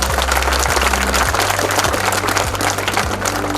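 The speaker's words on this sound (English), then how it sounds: "how about a round of applause for them?" Audience at a school annual day applauding middle school performers, a broad continuous clapping wash under a steady low musical drone, sustained and fairly loud throughout.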